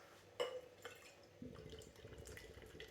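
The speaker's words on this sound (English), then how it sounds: "Right, let's get this out in the glass." Leann IPA, a budget Glen Cannich Brewery beer, is poured into a glass: a sharp clink at the start, then a steady liquid gurgle and fizz that carries on close and moderately loud.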